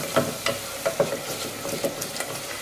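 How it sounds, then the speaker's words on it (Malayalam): Sautéing in sunflower oil over a medium flame gives a soft background sizzle, broken by repeated short scraping knocks of a spatula stirring the pan, with no voices. "ഇനി നമുക്കിത് 2 മിനിറ്റ് മീഡിയം ഫ്ലെയിമിൽ വെച്ചതിന് ശേഷം നന്നായിട്ടൊന്ന് വഴറ്റി കൊടുക്കാം."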